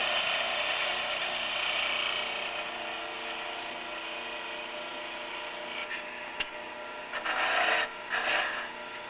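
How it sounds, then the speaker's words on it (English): A 3/8 gouge cuts into a wooden ornament with a steady rasping scrape, continuous and fairly loud, thinning toward the end with a few brief sharper scratches. "And I'm going to use this 3/8 gouge here."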